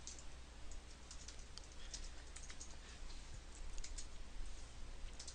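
Rapid keyboard typing while code is written at a computer, soft irregular clicks running steadily throughout at low level over faint background hum, with no talking.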